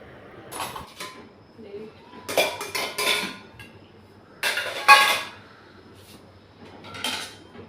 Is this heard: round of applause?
no